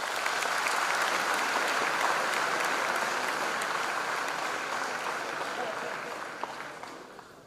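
At a freshers' induction programme, a large audience claps in a dense, steady wash that holds for several seconds, then gradually thins and fades toward the end with a few last scattered claps.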